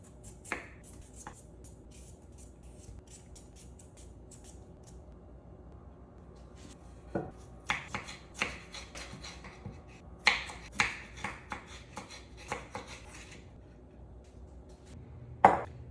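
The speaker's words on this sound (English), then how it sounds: "I'll just go ahead and start peeling those and we'll get those prepared to go boil" Washed potatoes being peeled by hand, with scattered quiet scraping strokes and soft clicks that grow busier and come in short quick bursts, close but faint against a quiet room.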